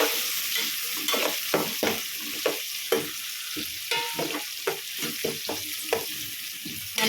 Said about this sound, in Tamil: இப்போ நல்லா வதக்கி விடலாம்.